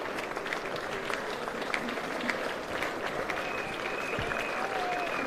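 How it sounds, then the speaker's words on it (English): People outside Grenfell Tower in London, children among them, clapping steadily in a moderate, continuous patter of applause out in the open street, with faint voices underneath. "Even the children are down here clapping, thanking."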